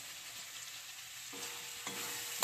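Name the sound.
sautéing mutton liver, fat and chillies in oil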